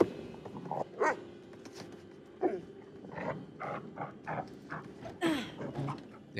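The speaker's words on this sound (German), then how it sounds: "Den Hund kannst du schlecht stillhalten, ne?" A dog barks and yelps in the horror video game The Devil in Me. Several short, separate barks rise over a quiet background with small shuffling sounds between them.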